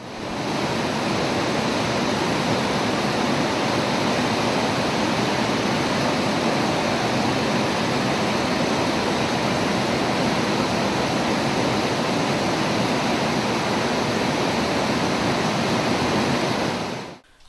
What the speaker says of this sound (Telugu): తెలంగాణ నయాగారాగా పేరొందిన కుంటాల జలపాతంలో జలసవ్వడి సంతరించుకుంది